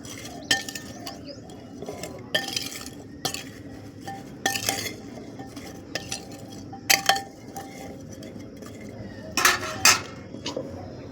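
Spices and turmeric are mixed in a pan with a metal spoon, producing a run of irregular clinks and scrapes against the vessel, close and moderately loud, spread across the whole stretch with quiet gaps between strikes.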